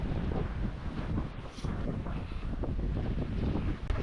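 Strong storm wind roars across a creek in croc country, buffeting the microphone steadily and loudly the whole time, with the wash of choppy water and a small tinny boat rocking beneath it.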